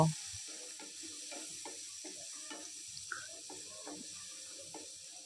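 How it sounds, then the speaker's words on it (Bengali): Prawns and masala sizzle in a pan while being stir-fried for a bottle gourd and prawn curry, with a soft steady frying hiss broken by repeated light scrapes of a spatula, fairly quiet and without talk. "চিংড়ি মাছটার মধ্যে যাতে মশলাটা ঢুকে এভাবে কষাতে হবে। একটু ভাজা ভাজা করে নিব।"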